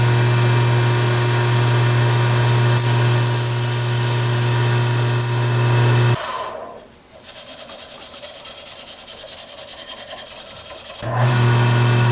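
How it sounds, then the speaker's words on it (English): Steady rasping sandpaper rubs against a wooden seam ripper handle over a motor hum, pausing for several seconds before the sanding resumes just as loud. "So now I'm going to do some sanding"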